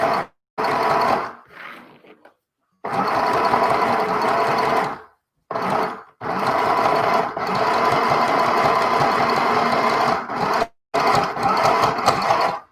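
A Janome New Home sewing machine runs in repeated bursts while stitching around the edge of a doll, its motor buzzing steadily through each run and stopping briefly between passes. The machine sounds close and fairly loud.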